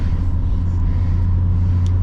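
A 1989 BMW 524td diesel engine gives off a gentle, steady low rumble that holds at an even level throughout, heard close and continuous with no voices over it.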